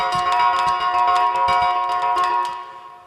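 A granular loop from the Slate + Ash Cycles instrument plays alone: sustained bright tonal layers with a quick pattern of glittering grain bursts, fading out toward the end.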